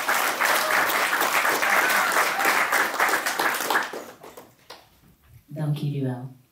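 A crowd at a Rotterdam hip-hop event gives loud applause for a spoken word artist, a dense wash of clapping for about four seconds that fades as a voice begins speaking.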